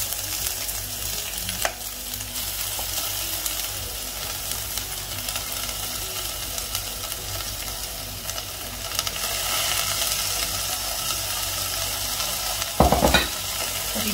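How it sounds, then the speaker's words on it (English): Spinach frying with already cooked onions in a pan, a continuous loud sizzle and hiss with occasional stirring clatter and a brief knock near the end, no voices. "So once these onions have cooked, I'm just going to put the spinach"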